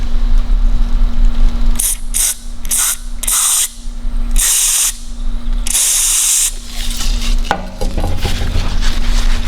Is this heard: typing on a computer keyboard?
no